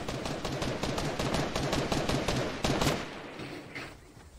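Dense, continuous gunfire rattles in Fortnite, a rapid stream of overlapping shots at moderate level that thins out toward the end.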